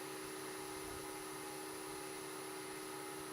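A pen-turning lathe spins steadily at about 1750 RPM, giving a constant, even hum and whine with no change in pitch and no talking.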